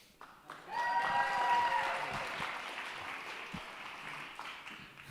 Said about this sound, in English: Quick round of applause for Rally